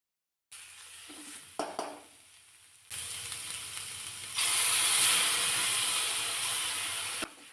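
Ginger garlic paste sautéed in a pan for a Marathi-style okra (bhindi) vegetable dish: a few clanks of a spoon against the pan, then a steady sizzle that swells louder and hisses continuously until a final tap.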